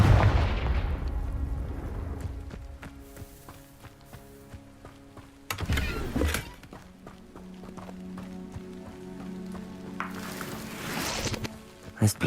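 Spell-casting and explosion effects from the Hogwarts Legacy video game, with booming blasts and crackling magic bursts layered over a rumbling, clattering background, two big impacts standing out loud and close.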